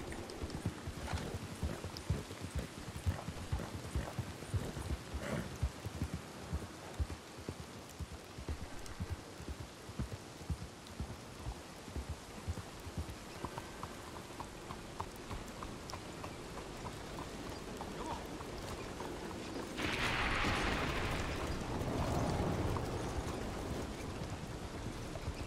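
Steady rain pours through a Red Dead Redemption II thunderstorm while horse hooves clop rhythmically beneath it. A broad, rumbling swell of storm noise rises near the end.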